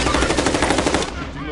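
Rapid automatic gunfire in a video game rattles in a dense, evenly spaced burst, loud and close, then stops abruptly about a second in.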